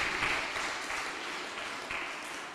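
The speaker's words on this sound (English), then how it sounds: "So a huge round of applause for him." Audience applause at a professional squash tournament final in Mumbai, a steady, fairly faint wash of clapping that runs through the whole stretch without pause.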